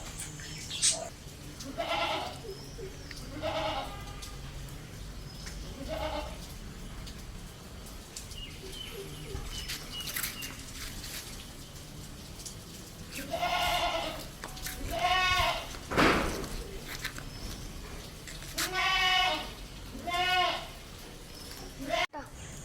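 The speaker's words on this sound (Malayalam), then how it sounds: "പ്രസവിക്കാൻ ഒരു മാസം ബാക്കിയുള്ള ഒരു മലബാറി ആട്" A pregnant Malabari goat bleats repeatedly at close range, several wavering calls rising over a farmyard background with birds and people talking nearby.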